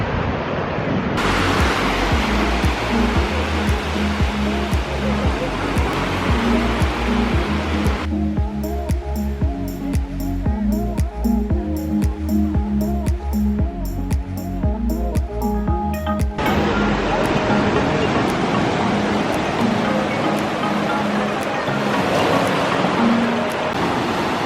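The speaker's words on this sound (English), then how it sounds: "Such a huge wave." Ocean surf breaks on Devgad beach in Sindhudurg, a continuous loud wash of waves rolling in and crashing, close by with wind noise.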